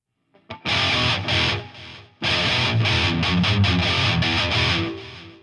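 An electric guitar plays through a Helix preset with heavy distortion and a noise gate, giving tight, chunky palm-muted chugs and riffs that cut off abruptly into silence between phrases, loud and up close.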